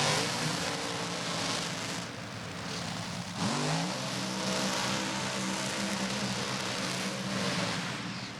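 Nitro-fuelled funny car at a drag strip doing a burnout, a sustained loud roaring engine drone with tyre noise that holds steady for several seconds, a brief dip and pitch sweep midway.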